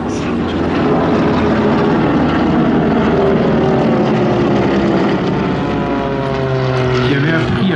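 A Beechcraft Beech 18 propeller aircraft passes at an airshow at Melun-Villaroche, a loud, continuous droning engine roar with shifting pitch, under an announcer's speech.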